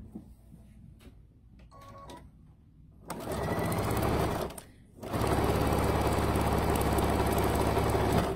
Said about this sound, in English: So if I sew this on here